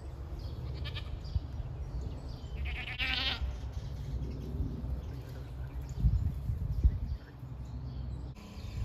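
Goats bleating faintly at a distance over steady low outdoor rumble, with a couple of short calls and some handling knocks near the end.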